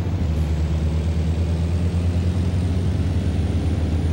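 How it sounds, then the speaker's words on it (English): Truck engine in American Truck Simulator, a steady low droning rumble held throughout at constant loudness, with no talk. "I love the sound of this truck."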